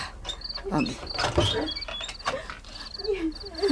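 A padlock on a door is worked open with creaking, ratcheting metal clicks and scrapes close by, along with short squeaky mechanical chirps.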